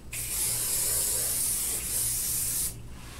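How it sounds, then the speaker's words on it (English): Hair spray hisses steadily onto freshly styled loose curls on short hair, one continuous close burst lasting nearly three seconds with a slight dip midway, then stopping abruptly. "I'm just gonna put a little spray in there to make sure that it lasts all day."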